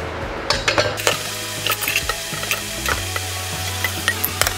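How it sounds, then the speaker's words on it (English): A jar quick-rinsed with running water before brewing kombucha: a continuous hissing splash over a low steady hum, with small clinks and knocks of glass scattered throughout. "So I'm gonna give it a quick little rinse here."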